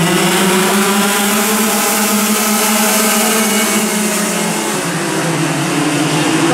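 A racing motorcycle engine screams at high revs, a loud sustained whine that shifts pitch as it accelerates past.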